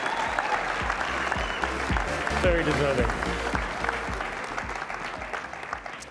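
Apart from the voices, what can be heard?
audience applause at awards ceremony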